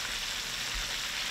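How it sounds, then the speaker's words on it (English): Chicken frying in hot oil gives a steady, dense sizzle that fills the whole moment, close and fairly loud, with no voices. "we are frying chicken, not baking"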